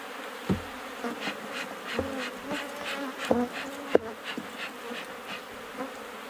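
Steady buzzing from many honeybees around a hive, close and continuous, with a few scattered knocks and taps; no voices.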